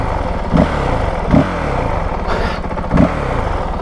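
Engine note of a Honda CRF450RL dirt bike with an aftermarket ECU, running steadily with three short throttle blips standing out, close and loud, no talking.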